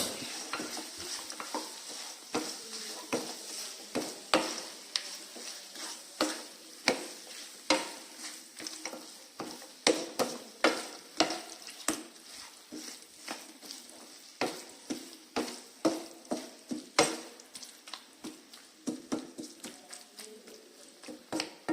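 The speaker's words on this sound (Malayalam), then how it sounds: "ഇനി ഇതിലേക്ക് കഴുകി വെച്ച ചിക്കൻ ഇതിലേക്ക് ഇടുക നല്ലോണം മിക്സ് ചെയ്ത് കൊടുക്കുക" Washed country chicken going into a Malabar curry masala in a pan, stirred hard with a spoon: rhythmic scraping strokes repeat steadily over a soft sizzle, close and fairly quiet.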